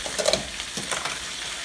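Cabbage fries on a high stove in canola oil and butter, a steady, close sizzle with faint stirring scrapes running throughout.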